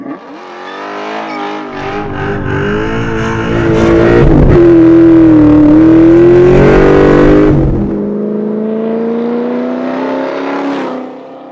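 A 2000 Ford Mustang Cobra R accelerates hard through the gears, its loud V8 roar rising in pitch, peaking, dropping at a shift, then climbing again close by.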